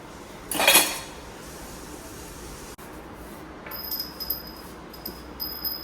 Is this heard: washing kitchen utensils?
yes